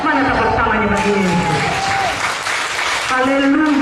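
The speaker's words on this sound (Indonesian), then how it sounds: "Mana tepuk tangannya bagi ini?" A church congregation at a service in Manado breaks into brief, loud clapping, with raised voices and cheering over the start and end of the burst.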